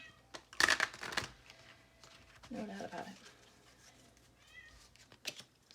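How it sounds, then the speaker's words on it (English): A house cat meows and scratches at a door during an at-home card reading, with a few short bursts standing out over a quiet room while a person speaks. "My cat is at the door scratching"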